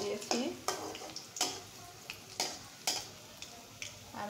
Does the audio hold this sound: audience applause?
no